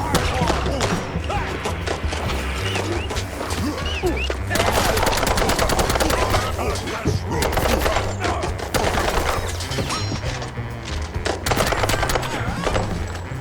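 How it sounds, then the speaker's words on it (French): Rapid automatic gunfire from the video game Mouse PI for Hire, loud and continuous bursts of shots with crashing impacts and a steady low game music bed throughout. "Ça tire, ça tire."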